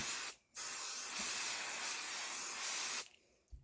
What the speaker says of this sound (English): I spray on the batting.